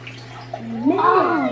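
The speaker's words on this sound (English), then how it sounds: "now I've got to pour the water." Water poured into cupcake batter mix in a home kitchen, a brief gurgling pour whose tone rises as it fills, heard close with faint household sound beneath.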